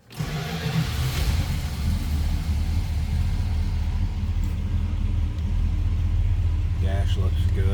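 A 1965 Plymouth Barracuda 2-door hardtop's engine fires up and settles into a steady, deep idle rumble close by, with a few brief sounds near the end.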